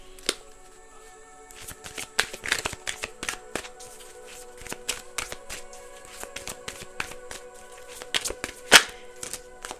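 A deck of tarot-style twin flame cards being shuffled close by, with a long run of quick, crisp riffling snaps and taps and a few sharper slaps standing out, heard alone without any talking.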